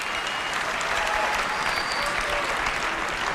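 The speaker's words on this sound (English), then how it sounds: "Kind of mild applause there" Audience at an Apple keynote product launch applauding, steady dense clapping from a large crowd throughout, moderately loud with no speech over it.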